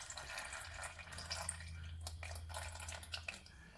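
Gear oil drips in quiet, irregular drops from a car's rear differential into a drain pan, faint and close, over a low steady hum.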